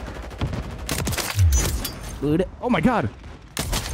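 Video game gunfire crackles in a few loud bursts amid excited shouting from players, with a sharp shot near the middle and more rapid shots toward the end.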